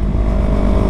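A Yamaha MT-03 motorcycle engine revs loud and close, a dense, steady roar that fills the whole brief moment with no voices over it.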